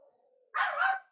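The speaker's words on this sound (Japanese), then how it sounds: "隣で犬が鳴いています。" A dog barks from the next room, one door away, heard through an Elecom HS-HP101UNCBK USB headset with dual-mic noise reduction: a short burst of barking after a faint low tone, fairly loud despite the distance.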